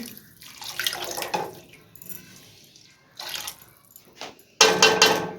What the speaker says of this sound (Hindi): ये इसमें मैंने पानी डाल दिए।